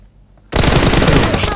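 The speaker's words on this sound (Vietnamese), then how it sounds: "Hai khẩu súng nó xấy mình" Two guns open up in a battle royale game, a dense burst of rapid automatic gunfire bursting in loudly after a brief quiet lull and hammering on without pause.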